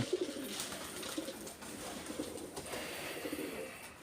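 Pigeons in a loft coo with repeated low, throaty calls over a soft background hum, moderately close.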